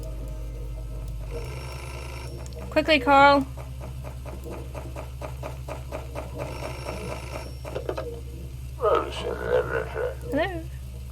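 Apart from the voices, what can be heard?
telephone ringing in Beholder video game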